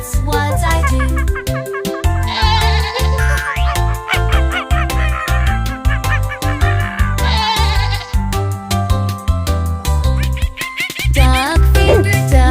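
Sheep bleating over a farm-animal nursery rhyme for kids, repeated bleats over a loud, steady rhythmic musical backing that runs the whole time.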